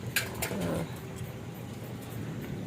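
Pigeons coo faintly in the distance in Sariaya, Quezon, a couple of soft low calls near the start over quiet outdoor background.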